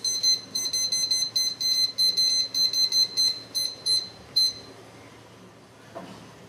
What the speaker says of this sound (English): We're going to set our timer for 20 minutes.